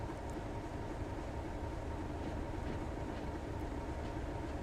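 Steady low rumble of a British Class 31/1 diesel locomotive running on the Tees Valley Line in Train Sim World, continuous and moderately quiet with no speech.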